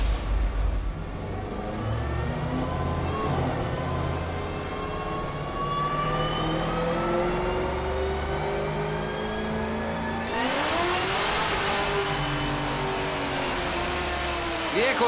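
A Chevrolet Camaro with nitro accelerates hard, its engine pitch climbing steadily through a long pull, then dropping at a gear change before rising again, loud and close.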